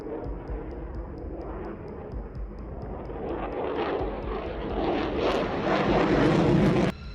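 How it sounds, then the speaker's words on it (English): A B-2 Spirit bomber roars as it takes off, the rumble building steadily louder over several seconds before cutting off abruptly. "The B-2s lifted off and climbed steadily into the morning sky."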